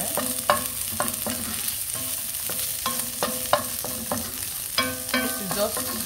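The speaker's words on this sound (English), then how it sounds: "So I'm going to give this a quick stir." Onions, ginger, garlic and pepper stirred in a hot pan, a steady sizzle under a regular run of spoon scrapes and clicks against the metal, close and fairly quiet, with no voices.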